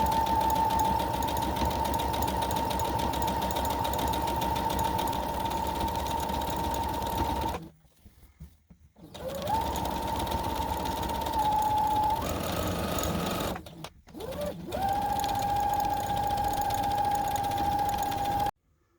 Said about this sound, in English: And then we're going to sew to the top of the pillow now.